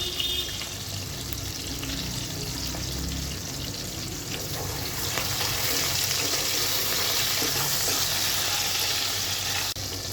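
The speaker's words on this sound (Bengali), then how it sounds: "দিয়ে দিচ্ছি ভিনেগার" Vinegar going into garlic frying for a homemade pickle, a continuous dense sizzle and bubbling hiss that swells slightly midway and holds steady, close and fairly loud with no voices.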